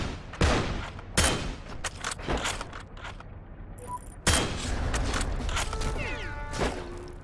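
Gunfire aimed at the player in the World War II shooter Heroes & Generals, with several sharp shots and bursts cracking out at irregular intervals over steady battlefield noise, a heavy volley landing near the middle.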